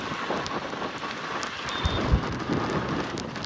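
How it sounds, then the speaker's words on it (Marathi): Steady monsoon rain pours down near Kelavali Waterfall in Satara, Maharashtra, a dense, continuous hiss, with a low rumble building briefly midway; no one speaks. "आम्ही थांबलेलो जरा पाऊस आलता म्हणून, पण पाऊस काही उघडं नाही"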